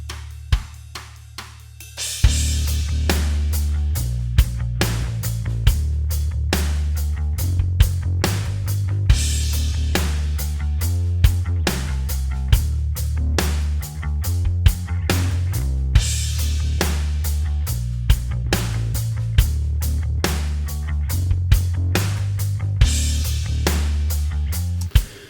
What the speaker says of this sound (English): I'm going to start just before the chorus on the bass and the drums now.